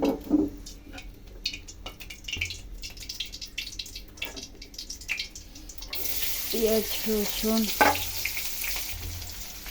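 Onion, garlic and finely diced potato dropped into hot oil, starting with scattered clatters and rising into a steady close frying hiss, with brief utensil knocks and stirring over it.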